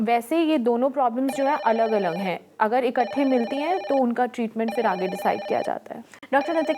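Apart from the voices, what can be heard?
telephone bell ringing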